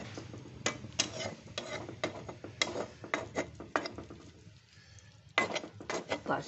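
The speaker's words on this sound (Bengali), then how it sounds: "পাশ থেকে কেচে টেচে তুলে মাঝখানে দিয়ে দিলাম" A utensil scrapes and stirs zarda semai, sweet roasted vermicelli, in a pan. The strokes come as close, repeated rasping scrapes with short pauses, over a faint sizzle.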